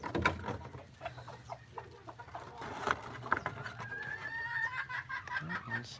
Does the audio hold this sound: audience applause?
no